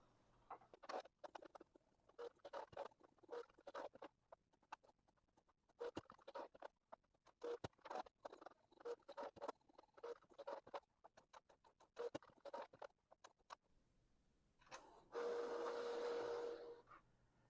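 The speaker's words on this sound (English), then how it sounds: "Now the printer will start that alignment and it will last a few minutes." Canon TS702a printer running an alignment, with a long run of quick clicks and mechanical ticks followed by a steady whirring feed near the end, close and fairly faint.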